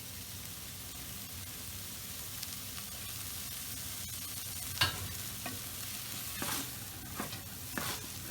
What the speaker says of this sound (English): it's very important we keep on stirring or else the cheese can burn